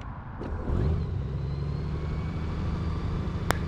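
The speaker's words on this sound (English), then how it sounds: "start the engine" A motorcycle engine fires up and settles into a steady low idle that runs close and continuous, with a brief click near the end.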